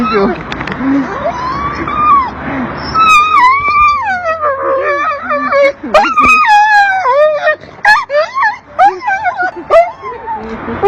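A dog cries out in long, wavering howls and whimpers that sound like a person wailing, loud and close, broken by high yips and sobbing whines.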